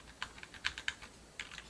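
Number keys on a computer keyboard pressed one at a time, six or seven crisp, close clicks in an uneven rhythm with quiet gaps between them, no voices.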